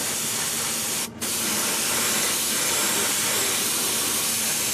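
A spray can lays a primer coat onto stripped scale-model parts in a loud, steady, close hiss, broken once by a brief pause before spraying resumes. There is no talking.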